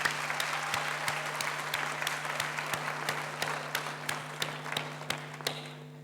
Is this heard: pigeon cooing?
no